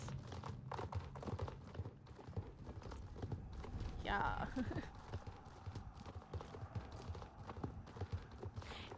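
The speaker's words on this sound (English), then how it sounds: "Horse." Horse hooves clip-clop in a brisk, steady rhythm close by, with a brief whinny partway through and a person's voice talking over the hoofbeats.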